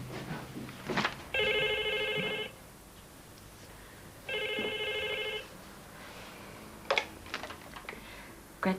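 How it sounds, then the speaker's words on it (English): Telephone ringing in an office, two distinct electronic ring bursts about three seconds apart, with light tapping and clicking sounds around them and no talk. "Just had a phone call from Kerry."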